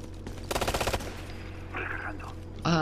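A rapid burst of machine-gun fire from Ghost Recon: Future Soldier rattles for about half a second, loud and close, followed by quieter game sounds and a final electronic tone.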